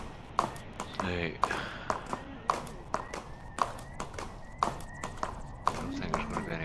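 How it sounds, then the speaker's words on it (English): Wild horses in the video game Stars End clip-clop with sharp, regular hoof strikes about twice a second, close and steady, while a person talks over them. "there's wild horses right here"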